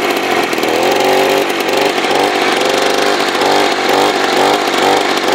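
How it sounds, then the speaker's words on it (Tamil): A homemade motorized bicycle's 35cc two-stroke engine idles steadily up close, a loud continuous buzzing drone with slight rhythmic fluctuations and no talking. "இப்போ நம்மளுக்கு இன்ஜின் வந்துட்டு பார்த்தீங்கன்னா ஐடியல் ஸ்பீடில் இருக்குது"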